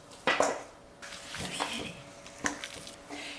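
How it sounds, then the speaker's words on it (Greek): Anthotyro cheese and egg being mixed into a Cretan kaltsounia filling in a bowl, giving a few sharp utensil clinks and soft wet scraping strokes, close and fairly quiet. "Και βάζουμε και τον ανθότυρο και το αυγουλάκι και ανακατεύουμε"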